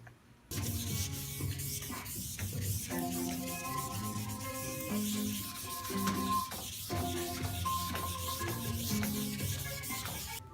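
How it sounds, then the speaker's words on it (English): A trunk lid being block sanded with 400 grit paper during auto bodywork makes steady back-and-forth rasping strokes, close and continuous with short pauses, and nobody speaks. "we're going to block this with 400"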